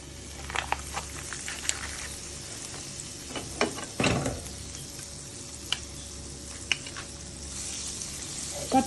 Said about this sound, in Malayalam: ഞാനിവിടെ ഫ്രൈ പാൻ വെച്ചിട്ടുണ്ട്. നമുക്കിനി ഇതിലേക്ക് ബട്ടർ ഇട്ട് കൊടുക്കാം.